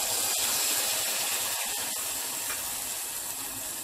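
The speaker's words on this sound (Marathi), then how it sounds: "तर आपण 5 मिनिटं मसाला तळून घेऊ आपण तेलामध्ये" Masala with coconut, ginger, garlic and crushed coriander frying in hot oil for egg fritters, a steady close sizzling hiss that runs continuously and evenly throughout.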